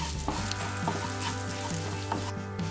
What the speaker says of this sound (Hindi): गर्म होने के बाद इसमें सरसों, जीरा और मेथी के दाने डालकर इसे भूनिए